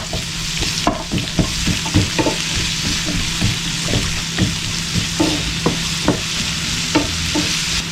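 Onions and shallots sauté with ginger garlic paste for Ramadan nombu kanji, giving a steady hiss of frying with a string of sharp spoon-scraping stirs throughout.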